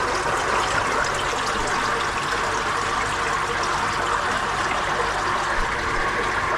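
Water pours into a Filtreau Combi Next pond filter after the screen is cleared of dirt, a loud, continuous rushing and gurgling flow that holds steady and close throughout, with no talk.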